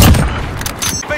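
Gunfire in the video game Modern Warfare: a loud, dense burst of shots and impacts filling the short moment, cluttered with game effects and a voice under it.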